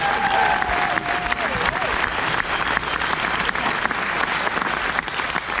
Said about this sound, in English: Let's give Missouri State Chorale one more round of applause.